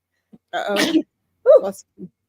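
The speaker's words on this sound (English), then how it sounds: "Ooh, I'm going to sneeze now" A single sharp sneeze bursts out, followed by a brief breathy vocal sound and a small sniff, close up.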